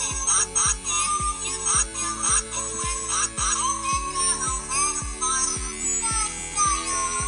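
A children's electric toothbrush plays a short, bright electronic tune of evenly repeating beeping notes, heard close and alone throughout.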